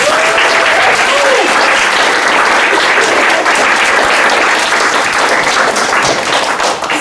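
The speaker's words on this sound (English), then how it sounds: "Let's have another round of applause for tonight's speakers." Audience applause after a poetry reading at a university literary event, loud and sustained dense clapping from a room of listeners for about seven seconds, with a brief voice near the start.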